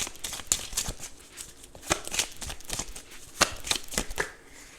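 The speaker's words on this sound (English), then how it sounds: "Let's get some more, some oracle cards here." Oracle cards are shuffled close up in a rapid series of crisp riffling and flicking bursts, with brief pauses between them and no talk.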